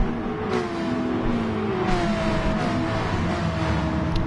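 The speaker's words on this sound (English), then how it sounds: "Spoil is overtaking Abramson now, moving up into 8th position" Race car engines in an online racing video game league, with a Porsche among the cars, a steady droning engine roar with rising pitch as the cars accelerate, loud and continuous without voices.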